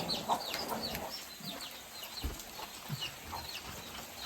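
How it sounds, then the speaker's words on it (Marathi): A chicken clucks in short, scattered bursts close by, with light scuffling movement between the calls. "बघा कोंबडी कशी धावून जाते"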